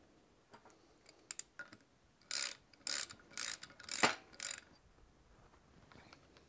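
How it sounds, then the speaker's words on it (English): A torque wrench tightening a Porsche 911 steering rack during a rebuild gives a series of short, close ratcheting clicks in quick bursts, growing denser and louder mid-clip before trailing off into a few lighter clicks. "torque it down with a bigger torque wrench"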